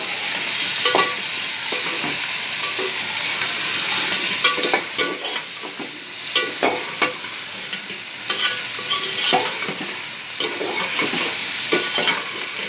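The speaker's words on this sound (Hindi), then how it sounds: "अब इसको इसके अंदर फ्राई कर लेंगे चिकन को" Chicken frying in a pan with browned onions, a steady loud sizzle broken by repeated stirring scrapes and clinks, no talk.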